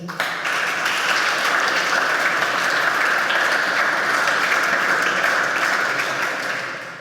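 Sustained applause from an audience at a formal municipal council ceremony in Krško, a dense, steady wash of many hands clapping that swells quickly and holds for several seconds before tapering slightly.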